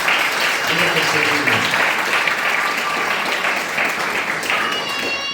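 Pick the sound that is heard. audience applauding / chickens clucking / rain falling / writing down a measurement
audience applauding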